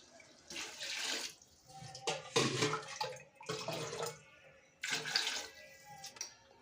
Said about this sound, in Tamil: இப்போது நான் ஒரு கிலோவுக்கு நாலரை டம்ளர் இதில் தண்ணி நான் ஆட் பண்ண போகிறேன்